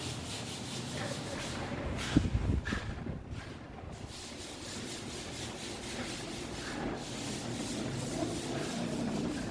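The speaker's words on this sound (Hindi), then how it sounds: "ये जो है रेगमाल लगाया जा रहा है ताकि इस पे जो दाने हो, अगर मट्टी हो, जो भी हो, मतलब वो क्लियर हो जाए" Sandpaper is rubbed over a repaired, patched interior wall, making a steady close scraping hiss that continues with little pause, with a slightly louder burst of strokes early on.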